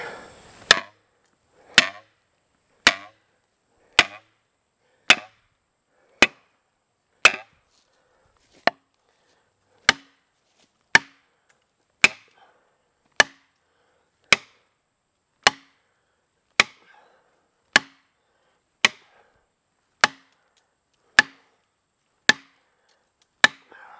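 Felling wedges are driven into the cut of a leaning honey locust tree with about twenty sharp, evenly spaced hammer strikes, roughly one per second, loud and close with near silence between blows.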